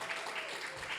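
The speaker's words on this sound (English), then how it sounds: "Yeah, go ahead and applaud. It's loud." A hall audience applauds at a community gathering, a short, dense burst of clapping that stays steady and fairly loud from start to finish.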